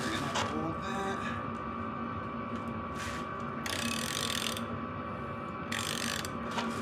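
A ratchet socket wrench fitted with a 15/16 socket loosens the rear axle on a dirt bike, giving bursts of close, rapid ratcheting clicks that stop and start over a steady low hum.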